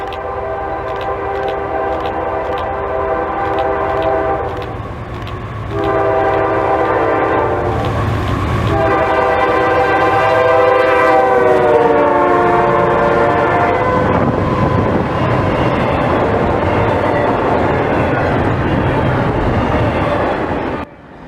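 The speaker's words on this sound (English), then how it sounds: "NS-22V is a daily intermodal train from Harrisburg, Pennsylvania to Elizabethport, New Jersey." Norfolk Southern daily intermodal freight train passing in North Jersey, sounding a long multi-tone horn repeatedly over the loud roar of the locomotive and rolling cars, close and continuous throughout.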